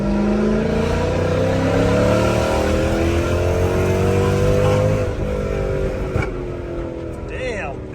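A Dodge Charger Scat Pack with a Corsa Extreme catback exhaust drones loudly from inside the cabin as it accelerates, its engine note rising steadily before easing off with a sharp exhaust pop.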